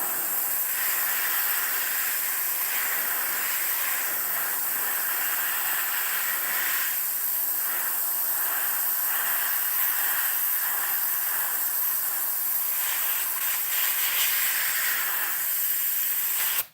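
An airbrush sprays a white base coat onto a musky crankbait lure, giving a steady, continuous hiss that runs almost unbroken at close range with no speech over it.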